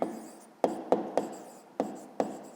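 A pen writes out a short answer for a fifth-grade maths exercise, giving half a dozen crisp, evenly spaced taps and short scratchy strokes on paper, close and quiet.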